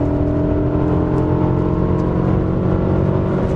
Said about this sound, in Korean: 속도가 빨라지면서 바람 소리도 조금씩 커지는데 엔진 소리가 죽지 않네요